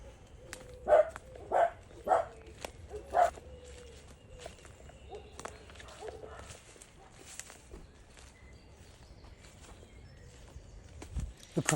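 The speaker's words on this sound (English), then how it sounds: "Now there goes the dog" A dog moving through woodland: a few quick soft thuds and rustles close by early on, then a quieter outdoor background with faint scattered movement.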